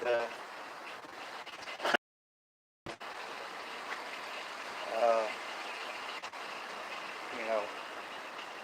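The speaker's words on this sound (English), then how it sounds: "the rain is just ridiculous" Heavy rain falls during a severe thunderstorm with strong wind in Kentucky, making a steady broadband hiss. Someone talks over it, and the sound briefly cuts out near the start.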